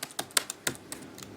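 Typing on a computer keyboard: about eight crisp, close key clicks in an uneven rhythm, loud and alone with no voices.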